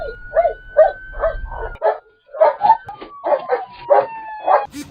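A police dog barks and yips repeatedly during a traffic stop, a rapid string of sharp, close, whining barks in uneven bursts with a brief pause midway, heard on its own without talking.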